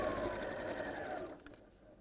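A sewing machine stitches slowly around the curved edge of a bag, a steady close whirring run that fades out near the end.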